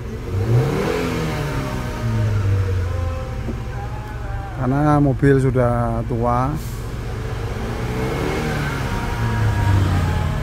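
An old Hyundai Trajet engine revs up to around 4000 rpm, a steady mid-pitched drone that swells and falls, heard up close beneath someone talking throughout.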